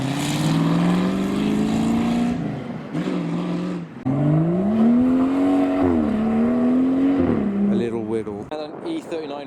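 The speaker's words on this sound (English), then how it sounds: "Oh, and a green Mustang with exhausts underneath." Modified cars, including a green Mustang with exhausts underneath, leave a car show with loud, rising and falling engine and exhaust sweeps passing close by one after another, briefly broken by short gaps, with some voices late on.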